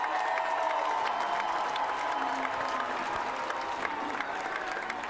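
A crowd at a baseball game applauds steadily for a ballplayer, a fairly faint, continuous patter of many hands with little cheering, heard alone.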